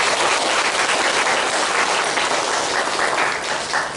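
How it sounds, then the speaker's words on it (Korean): A church congregation applauds a newly married couple, producing a dense, loud wash of clapping from many hands that holds steady for several seconds. "이 커플을 위해서도 축하의 박수를 보내시기 바랍니다."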